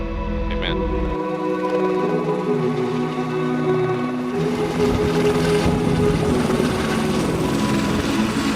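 Helicopter at Skinwalker Ranch, a loud, steady low engine drone with tonal whine that thickens and grows rougher as the rotor spools up.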